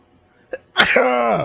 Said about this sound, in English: Yeah, I just sneezed.